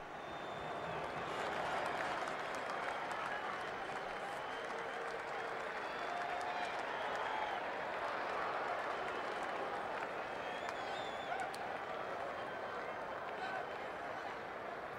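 A stadium crowd of 100,000 at a football match roars and applauds in a steady, dense wall of cheering, with a commentator's voice running over it throughout.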